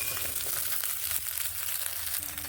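Flat beans frying in a pan, seasoned with salt and turmeric, give a steady, even sizzle that holds at a moderate level throughout, with no voices.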